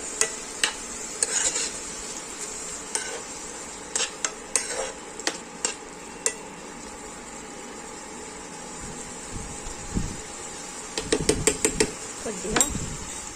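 Stewed tomatoes and garlic stirred in a pan for tomato peanut chutney, with scattered spoon clinks and scrapes against the pan over a faint low sizzle, quiet between strokes and busier near the end.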